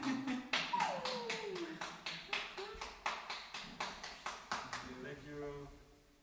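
Rhythmic clapping from a concert audience at a performance, steady and evenly spaced, carries on for several seconds with a voice speaking over the start.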